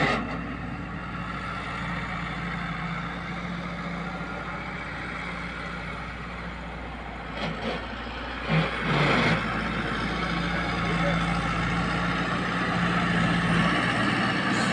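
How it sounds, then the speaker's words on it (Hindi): Tractor engine running steadily in a farm field during sowing, a constant low rumble throughout with a brief louder surge partway through, no talking. "सुबह तक चले हुए ट्रैक्टर जी,"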